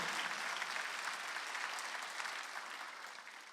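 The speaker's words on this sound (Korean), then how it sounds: "박수 한번 드리세요." A church congregation at a Wednesday worship service, 예수중심교회, claps together in a dense, steady burst that tapers slightly toward the end, with no speech over it.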